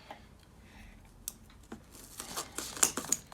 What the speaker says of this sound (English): So I'm probably going to cut out and just open this.